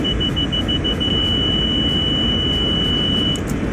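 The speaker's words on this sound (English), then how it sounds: "there has to be a visual and audio alert when the timer runs out or is about to run out" Train alerter alarm in Train Sim World 2 sounds as a steady high electronic beeping that pulses repeatedly, then holds as one continuous tone for about three seconds over a loud, constant rumble of train noise, with no voices.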